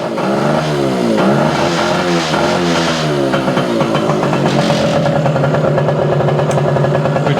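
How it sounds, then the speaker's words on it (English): A Yamaha Campus 60 moped engine runs loud and close with the throttle held open, its revs rising and falling unevenly as it surges and cuts out before settling into a steadier buzzing drone. "All I'm doing is holding the throttle on."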